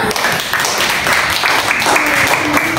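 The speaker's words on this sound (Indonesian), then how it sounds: "Beri tepuk tangan Karina" A classroom of students claps for a classmate, a dense, continuous patter of many hands, fairly loud, with some voices mixed in.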